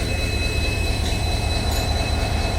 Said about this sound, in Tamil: இங்கே வந்து ட்ரெயின் இப்போ நின்றுச்சு.